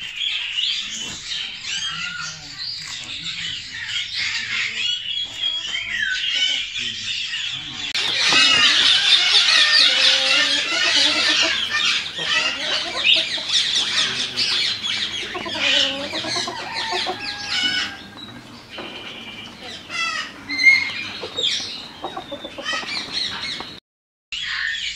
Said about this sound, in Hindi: ये इस तरफ आपको जितने नज़र आ रहे हैं सारे केजेस सील मुर्गे मुर्गियों से